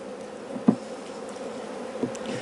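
Honey bees buzzing around a hive, a soft continuous hum of many wings with a couple of brief closer buzzes passing by, fairly faint and close.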